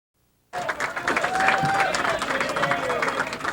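A candlepin bowling crowd at a Tournament of Champions match cheers and claps after a brief silence, a lively steady roar of rooters with whistles and chatter mixed in.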